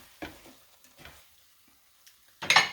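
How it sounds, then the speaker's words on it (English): Eggs cooking in a pan get a few quick stirs, each a short scrape and sizzle separated by near silence, with a louder scrape at the end. "So I'm going to give it one more little stir. Make sure it's all cooked."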